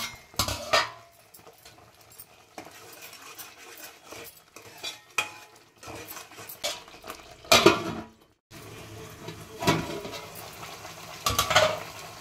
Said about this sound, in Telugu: మధ్య మధ్యలో కలుపుకుంటే దగ్గరికి అయ్యే వరకు ఉడకనివ్వాలి.